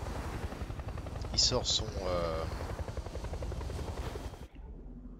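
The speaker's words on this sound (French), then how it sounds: "l'hélico il est en stationnaire" A military helicopter hovers in place in a scene from the film Le Chant du Loup, its rotor thrumming steadily and loudly under brief spoken dialogue before cutting off abruptly near the end.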